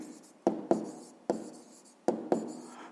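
A pen writes on paper in five short, distinct scratchy strokes, each starting with a tap and fading away, close and fairly quiet, with no voices.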